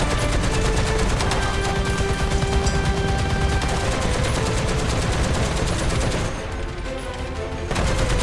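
Dense, continuous tank gunfire and battle noise from the War Thunder video game, featuring an American M103 heavy tank with a 120 mm gun, loud and sustained with a brief dip near the end.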